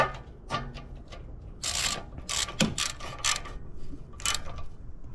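Close, bright bursts of ratchet clicking come in uneven spurts as the ball joint nuts on a Lexus GS300 are snugged up, with short pauses between strokes.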